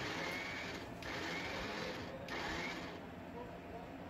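A kitchen mixer grinds garlic chutney with turmeric powder in short pulses, giving a muffled, steady whirring and rattling drone that dips briefly between bursts, fairly quiet.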